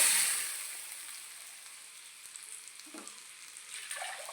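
A paste of ground mango, coconut and green chilli fries in hot oil for a mango curry, starting with a brief loud sizzle that settles into a quieter, soft crackling hiss with a few light spatters.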